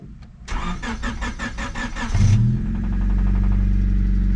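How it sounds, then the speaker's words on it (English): A 1997 Honda Civic with slight rod knock cranking with rapid rhythmic starter chugs, then catching and settling into a loud, steady close idle. "I'm gonna start the car, pop the hood."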